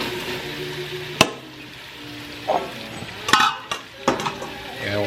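Onions going into a hot pot for a bean and collard greens dish, a soft steady sizzle with a few sharp clanks and stirring scrapes of utensil against the pot, close by and with no talk.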